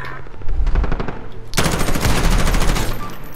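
Sustained automatic gunfire from a Modern Warfare multiplayer match: scattered shots at first, then a sudden loud, dense burst of fire from about halfway through, continuing without a break to the end.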